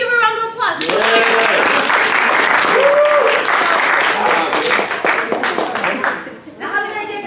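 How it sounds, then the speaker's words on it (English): Applause from a student audience at a leadership workshop, a burst of dense clapping lasting several seconds with a voice talking over it, bracketed by brief speech at the start and end. "let's give a round of applause"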